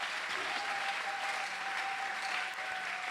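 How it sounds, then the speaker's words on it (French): A church congregation applauding during a service, dense sustained clapping from many hands filling the room, with a faint voice beneath. "Acclamons pour le roi des rois"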